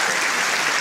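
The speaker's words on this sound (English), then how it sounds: "give yourselves a round of applause" Audience applause at a stand-up comedy show, a dense, loud, even wash of many hands clapping at once, filling the whole short moment with no pauses.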